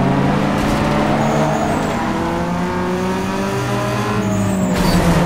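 Steady engine drone of a Ford Focus ZX3 in Need for Speed Underground 2, holding a continuous loud revving tone with shifting pitch bands as it accelerates through a street race, no talking.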